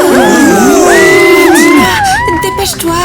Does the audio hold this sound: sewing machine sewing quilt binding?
no